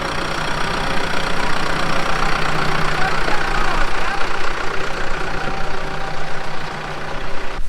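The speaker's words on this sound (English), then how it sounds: "Thank you for driving the tractor." A tractor engine runs steadily while driving home from a rainy cabbage harvest, a loud, close, continuous mid-pitched rumble with no breaks.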